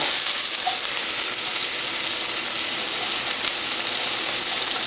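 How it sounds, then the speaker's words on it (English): Garlic and onions sizzle in a hot pan with meat, a loud, steady, close hiss that holds unbroken the whole time with no talk over it. "And we're going to get our garlic and our onions right in there with it."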